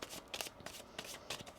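Tarot cards shuffled by hand in a quick riffling run of soft, papery bursts, close and fairly quiet, with no talking.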